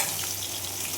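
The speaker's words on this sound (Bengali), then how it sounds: "আর এখানে বসে গেছে মাছটা ভাজতে" Fish fries in a pan with a steady, close hiss of sizzling oil that holds constant without pause.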